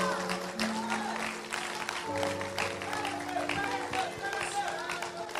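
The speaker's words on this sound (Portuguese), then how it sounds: "Aplaude o Senhor Jesus com aquelas palmas bem bonitas." A church congregation claps for Jesus after a sermon, a fairly faint spread of hand clapping mixed with voices and crowd murmur.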